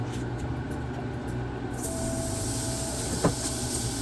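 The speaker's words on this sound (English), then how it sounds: "We're going to add a little bit of butter." Butter hitting a smoking-hot pan just emptied of a seared Wagyu steak, a steady broad hiss that swells louder partway through with a brief crackle near the end, close and continuous with no talk.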